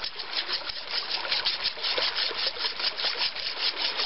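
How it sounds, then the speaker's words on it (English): A sabre blade drawn over a wet whetstone in steady, rapid back-and-forth grinding strokes, a continuous close scraping rasp with no talk. "We grind the blades with the stone."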